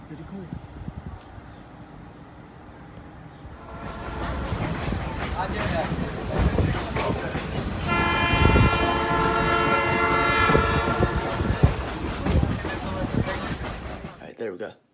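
A Blue Ridge Scenic Railway train rumbles past close by, its horn blaring in long sustained blasts over clattering wheels, with voices talking at the start.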